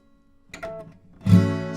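A guitar chord strummed in the same shape shifted higher up the strings, ringing out loud and sustained after a softer picked lead-in, played alone.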